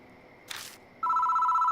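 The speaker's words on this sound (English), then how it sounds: "Oh, the phone begins to ring." Telephone ringing in the video game Death Mark: a short rustling sound, then an electronic bell-like ring starts abruptly and holds steady and loud, with no voices.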